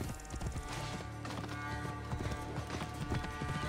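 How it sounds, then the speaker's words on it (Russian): Horse hooves pound at a gallop in Assassin's Creed Origins, a steady rapid clip-clop running the whole time under a dense bed of game music and ambience. "Насколько быстрее получается лошадь скачет"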